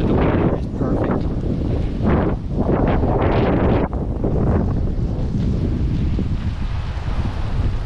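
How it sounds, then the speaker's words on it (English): Loud, steady wind buffeting the microphone while cycling a lakeside trail through Sakatah State Park in Minnesota, a continuous low roar with gusty swells throughout and no speech. "Windy, but the weather is perfect."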